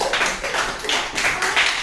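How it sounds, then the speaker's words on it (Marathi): Children clap for a classmate who has shown her drawing in a classroom, a dense run of close hand claps rising and falling in bursts for a couple of seconds. "तिच्यासाठी जोरदार टाळ्या वाजवा"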